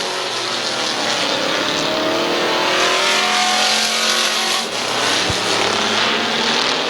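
Street stock race cars at Midvale Speedway roar off at the start of a heat race, a loud dense wall of engine noise with rising revs and a passing pack, sustained throughout.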